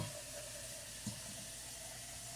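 Tap water runs into a can in a home kitchen, a steady, faint rushing hiss with a soft splash partway through.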